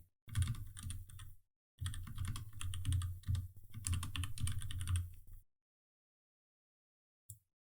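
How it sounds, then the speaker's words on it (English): Typing on a computer keyboard, close rapid key clicks in two runs separated by a short pause, then silence with one last faint tap. "I will type in BlackBrick training"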